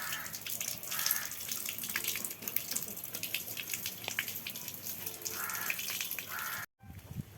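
Tap water runs steadily and fairly loud while elephant foot yam is washed clean of ash outdoors, a continuous splashing gush that cuts off abruptly near the end.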